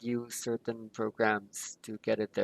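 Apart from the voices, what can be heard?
No everyday noises stand out.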